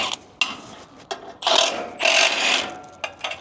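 Ratcheting mechanism clicks in quick bursts at close range, a wrench being worked on the hidden winch of a flatbed trailer, with short sharp metallic ticks separated by pauses and no talking.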